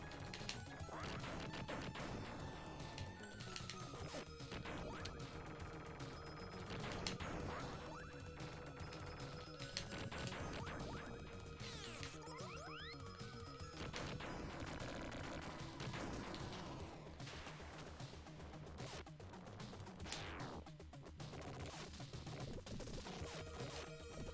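Dense, continuous crashes and blasts from bombs in the retro video game Alien Soldier, a steady barrage of impacts layered with electronic game music, loud throughout with no voices.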